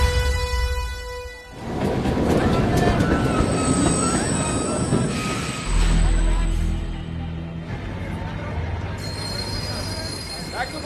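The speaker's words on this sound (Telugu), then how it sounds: "అదేంటి ట్రైన్ వెనక్కెళ్తుందండి?" A passenger train reverses along the track, its wheels squealing shrilly and metal cars clattering loudly and close for the whole stretch, with a deep rumble rising midway.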